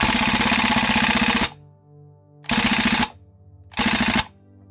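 A North East MP2 gas blowback airsoft gun, a Bundeswehr UZI replica, fires three loud, rapid full-auto bursts up close, the first about a second and a half long and the next two shorter, with brief quiet gaps between them.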